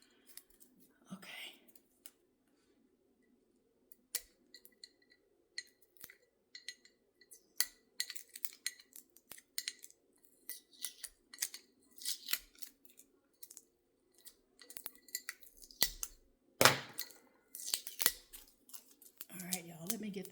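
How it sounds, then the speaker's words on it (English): Crinkly plastic shrink wrap being tugged and peeled off a glass sublimation tumbler, with scattered close crackles, snips and light clinks in short irregular bursts, a faint low hum underneath and a brief voice partway through. "I am having a time getting this shrink wrap off"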